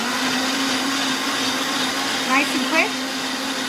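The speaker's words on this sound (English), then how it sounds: "I'm just going to blend this up in my blender" A blender whirs steadily and loudly through the whole stretch as it blends a lemon watermelon cooler drink, with a brief spoken remark near the end.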